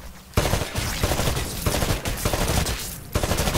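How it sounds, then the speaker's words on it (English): Rifle fire at shooting-range targets in the Titanfall video game, a loud, close burst of rapid shots that goes on nearly without a break for several seconds, with only short pauses between volleys and no talking. "Destroy all of the targets in the shooting range."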